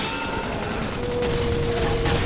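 Rapid bursts of gunfire in Xenoblade Chronicles X, mechs firing in a dense, steady rattle over a low droning background, with no voices.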